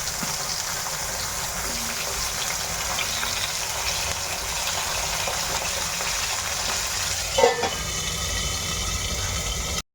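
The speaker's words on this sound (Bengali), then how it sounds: "এখন তো বেগুনগুলো ভাজতে দিয়ে দিয়েছি তো বেগুনগুলো ভাজা হচ্ছে" Small brinjals fry in oil in a wok with a steady, even sizzling hiss throughout, close and moderately loud, with one brief clatter near the end and no talking.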